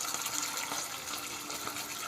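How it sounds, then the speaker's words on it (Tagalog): Water poured into a pan of sardines, a steady soft gushing splash at moderate level with no talk. "Lagyan ko ng konting tubig."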